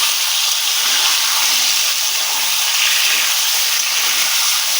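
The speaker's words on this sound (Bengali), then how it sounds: "পুরোটা একবারই দিয়ে দিলাম, দিয়ে এটাকে ভালো করে ভেজে নিচ্ছি।" Chicken meat frying in oil, a dense, loud, continuous sizzle heard up close with no talking.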